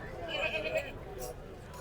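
A male goat at an Eid al-Adha goat market gives one drawn-out bleat near the start while people talk close by.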